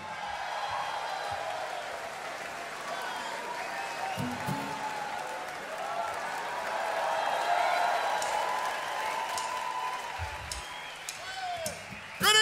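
Sustained applause and cheering from a concert audience at Paradiso greet a singer, a thick continuous roar that swells toward the middle, with a few thumps and voices mixed in.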